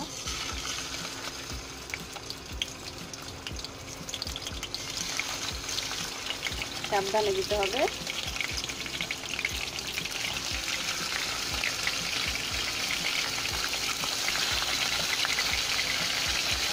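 Chicken roast pieces go into hot oil in a pan and fry with a steady, loud hiss that swells and holds, while a voice speaks briefly over it.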